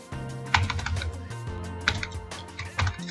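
Quick, steady keystrokes clatter on a computer keyboard as router commands are entered, close and continuous with a few louder key presses.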